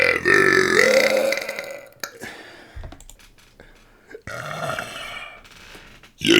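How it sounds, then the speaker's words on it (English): One long, loud burp drags on for about two seconds, followed by clicking sounds and a quieter stretch, then a second burp-like rumble and a short sharp noise at the end. "This is the burp that never."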